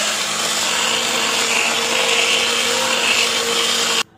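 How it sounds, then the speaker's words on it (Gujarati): Kitchen blender whirring steadily through a batch of tomato soup with mashed potato, a loud continuous motor drone that cuts off abruptly near the end. "તો તમારે 5-1 મિનિટ જેવું બ્લેન્ડર ફેરવવું પડશે"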